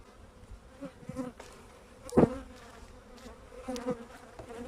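Honey bees buzzing around a 14-frame hive, a steady close swarm hum with brief louder passes of individual bees flying near.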